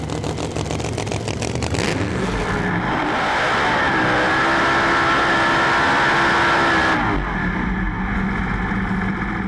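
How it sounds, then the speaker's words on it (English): A Pro Mod drag car, running six seconds at 200 mph in the British Drag Racing Championship, roars loud and close from the onboard position, its engine pitch climbing steadily through the run before cutting off abruptly near the end. "That's what it's like to be a passenger in a 6-second, 200-mile-an-hour Pro Mod car."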